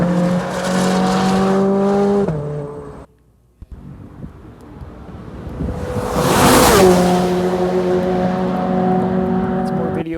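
A Corvette race car runs on a road course: a loud, steady engine drone cuts off, then a car sweeps past close by with a rushing whoosh and a falling engine pitch before settling into a sustained roar.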